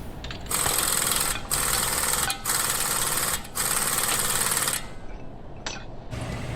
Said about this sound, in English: I'm just going to hit it with my impact about 4 times once it seats